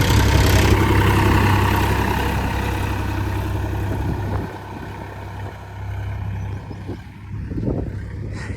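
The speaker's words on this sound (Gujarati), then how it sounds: "આપણે ટ્રેક્ટર ને બીજા ગેરમાં હાલે" A tractor engine runs in second gear in a farm field, a steady low diesel drone that is loud at first, then eases and fluctuates slightly toward the end.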